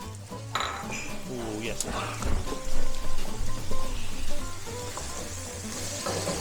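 Chopped garlic and carrot go into a hot pan for a seafood Thai green curry stir fry, with a soft sizzle under clinking utensils and pan scraping, while someone speaks briefly.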